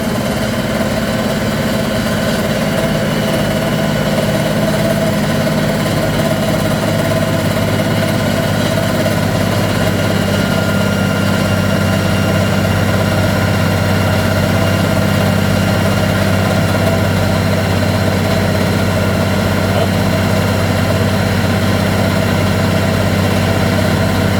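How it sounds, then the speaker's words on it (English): A tractor engine idles steadily and evenly at about 1,000 rpm for the whole stretch, a loud continuous low rumble with a constant hum and no voices. "Yeah, very quiet tractor."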